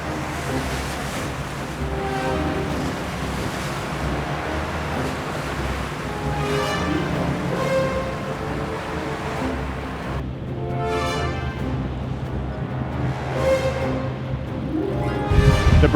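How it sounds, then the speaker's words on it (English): Strong wind and rolling sea surf buffet a sailing race fleet heading out of the mouth of Narragansett Bay off Newport, a steady loud wash with gusty microphone wind throughout. "The breeze and the seas are increasing greatly as the fleet heads out of the mouth of Narragansett Bay"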